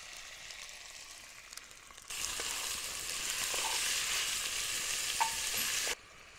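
Pre-spiced beef with red and green capsicum and potato hits a hot Dutch oven at a campsite, bursting into a loud steady sizzle for about four seconds between quieter stretches of faint background.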